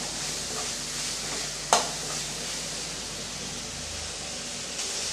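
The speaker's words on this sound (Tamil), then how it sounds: "சேர்த்து நல்லா வதக்கி விட்டுக்கலாம் கத்திரிக்காய் வந்து கொஞ்சம் நேரம் மாறுற வரைக்கும் வதக்கி விட்டுக்கலாம்" Brinjal sautéing in a pan for sambar gives a steady, soft sizzle with light stirring, broken by one sharp clink of a utensil against the pan partway through; no talking.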